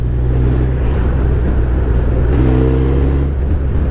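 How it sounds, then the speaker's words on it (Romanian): A steady, low idle from a 2009 Suzuki Hayabusa motorcycle engine, with a constant rumble and even drone, close by, with no voices. "Motorul merge așa la relanti."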